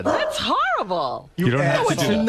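A dog yelps and whimpers in a radio studio: a high, rising-and-falling cry, close and loud, mixed with people talking.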